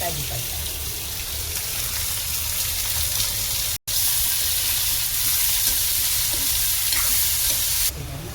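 Finely chopped onions and curry leaves fry in a pan for egg thokku, a dense continuous sizzle with scraping stirs, briefly cut off once before carrying on.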